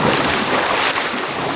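A swimmer dives into a pool in Bali, setting off a loud, close burst of rushing, splashing water that washes steadily through the short moment with no speech.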